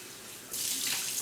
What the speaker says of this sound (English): I have a strainer here, so I'm just going to put these in a strainer. I'll wash this out real quick.